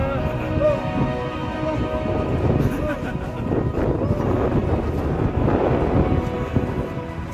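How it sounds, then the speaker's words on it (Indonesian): Strong, stormy wind roars over a fog-covered mountain summit during a storm, a steady loud rumble with buffeting gusts hitting the microphone through the whole stretch. "Kondisi puncak tertutup oleh kabut dan berisik oleh terjangan angin."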